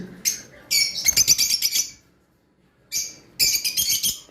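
Forpus parrotlets and lovebirds give sharp, high chirping calls close by. The calls come in two dense bursts of rapid tweets separated by a short quiet gap.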